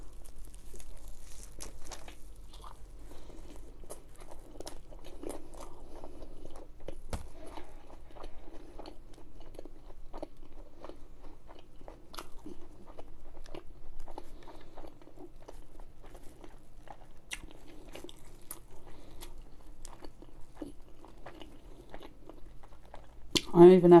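Chewing and biting into a Burger King Cheese Triple Whopper with pickles, close and steady wet mouth sounds running throughout, with speech now and then.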